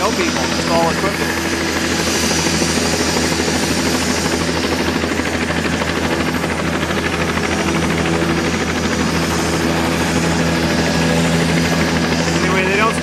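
A helicopter at Supai runs close and loud, its rotor and turbine making a steady, dense, unbroken roar that fills the whole stretch.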